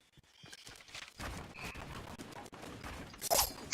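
Video game gunfire in a Call of Duty Warzone-style battle royale match: a steady stream of sharp shots and crackling bursts runs throughout at moderate loudness, with a denser, louder volley near the end.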